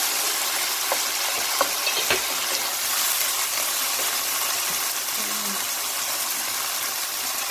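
Rice being stirred in a pan with cumin powder and salt, a low steady sizzle with faint scraping and occasional soft clinks, close and continuous.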